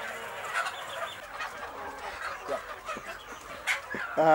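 Free-range village chickens on a small farm cluck in soft, scattered bursts. Some calls sound near and some farther off, over a light background murmur.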